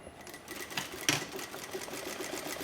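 A domestic sewing machine stitches a quarter-inch French seam over a trimmed eighth-inch allowance, a steady close mechanical whirr running throughout, with a brief louder clack about a second in.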